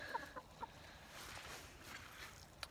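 Chickens cluck softly a few times over a low, steady background hum, fairly faint and without talking.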